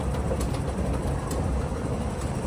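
Trains rumbling through a deep underground station in Hong Kong Central, a steady loud broadband roar of rail and platform noise with no clear pauses throughout.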